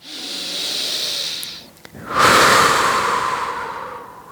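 Deep breaths taken while holding downward dog in a yoga session: a long, airy exhale, a brief pause, then a louder, rushing breath that slowly fades, close and alone.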